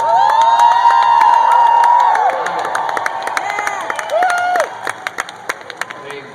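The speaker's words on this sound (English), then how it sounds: "I love that we're cheering for a guy to come on stage and talk more." An audience at Maker Faire 2012 cheers loudly for a speaker coming on stage, with whoops and shouts over a continuous crowd roar that thins into scattered claps and calls.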